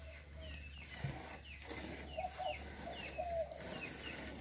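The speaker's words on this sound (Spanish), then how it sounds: "Ahí vienen los pollitos para el río a picar ahí lo que encuentren" Young chicks heading toward a river to peck for food on a farm in El Salvador, giving faint, scattered peeps and soft clucks over a steady low hum, with no talking.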